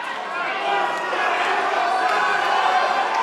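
A boxing crowd cheering and roaring as both fighters tire in round 12, a steady, dense wall of crowd noise that stays loud throughout without a break.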